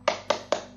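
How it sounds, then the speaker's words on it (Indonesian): Three sharp hand claps in quick, even rhythm, close and crisp, performed as a short classroom-style cheer. "kita tepuk ekonomi dulu yuk"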